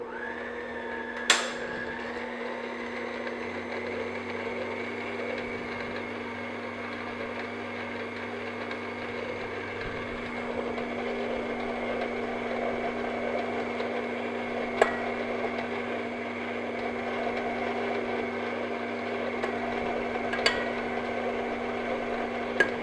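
An electric stand mixer beats sugar on low speed for whoopie pie batter, giving a steady, even motor hum that runs continuously throughout, close and moderate, with a few brief clinks of the beater against the bowl.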